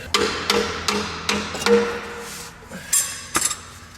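A hammer drives a gasket scraper under the automatic transmission pan of a 1997 Subaru Legacy, giving about nine close, ringing metallic strikes in an uneven rhythm with brief pauses.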